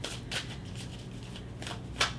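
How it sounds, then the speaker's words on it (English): A deck of tarot cards is shuffled by hand: a run of soft, papery riffles and flutters, close and moderately loud, ending in a sharper snap as the cards settle. "this deck just feels like it needed a little more shuffling"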